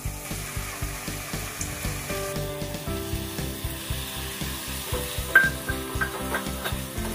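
Marinated chicken keema fries in a pan for a dhaba-style recipe, with rhythmic stirring scrapes recurring about twice a second over a constant sizzle. It is close and moderate in volume, with no speech.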